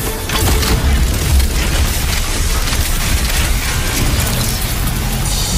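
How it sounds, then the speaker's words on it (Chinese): A soul cannon blast fires in the Soul Land 2 animated series, a heavy, sustained booming roar that fills the whole clip at a loud, steady level with no speech over it. "一级定装魂大炮"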